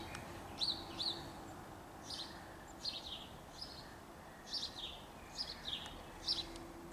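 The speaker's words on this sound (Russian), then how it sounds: "Птички поют." Small birds sing in the early morning, with repeated bright chirps and short whistled phrases at a fairly even pace over a steady outdoor hum, somewhat distant and with no talking.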